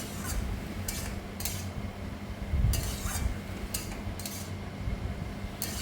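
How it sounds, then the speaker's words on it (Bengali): A spoon stirs turmeric into ash gourd cooking in a pan, giving several quiet clinks and scrapes against the metal at a steady pace over a low background hum, with no talking. "এবার ভালো করে নাড়াচাড়া করে নিচ্ছি।"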